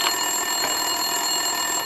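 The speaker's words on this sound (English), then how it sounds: "Winterson's phone was ringing." A desk telephone rings steadily in the video game Max Payne 2, a continuous electronic trill with bright high tones heard on its own and at a constant level, with no talking.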